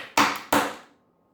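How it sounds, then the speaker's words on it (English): Two sharp, hollow knocks in quick succession from banging a keyboard cable, close and loud, each ringing briefly before fading into silence. "I just banged the cable a couple times."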